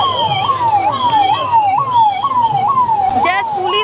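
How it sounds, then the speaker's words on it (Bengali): Police car and ambulance sirens wail at the Puri Rath Yatra, their rising and falling sweeps repeating steadily and loudly over a busy street crowd. "জাস্ট পুলিশ গাড়ি আর অ্যাম্বুলেন্স শুধু"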